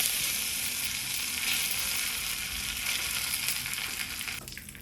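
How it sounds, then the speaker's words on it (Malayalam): Fenugreek, mustard seeds, dried chillies and curry leaves crackle and sizzle in a tablespoon of hot oil for a mango pulissery tempering, a steady, close, loud frying hiss that eases off at the very end. "1 ടേബിൾ സ്പൂൺ എണ്ണയിൽ ഉലുവ ഇടുക, പിന്നെ കടുക് ഇടുക, പിന്നെ വറ്റൽ മുളക്, പിന്നെ കുറച്ച് കറിവേപ്പില"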